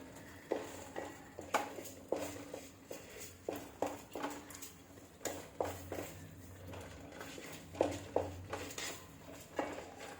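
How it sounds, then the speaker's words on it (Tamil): Chilli powder sautéing in a pan for a kaanagathai fish curry, with repeated clinks and scrapes of a spoon against the pan over a soft, steady background, close and moderately loud. "அதனால் அதை போட்டு நல்லா வதக்குறேன்"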